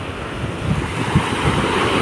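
Heavy surf roars continuously at Dolomite Beach, Manila, with strong waves rushing in under a constant wash of wind noise and no voices.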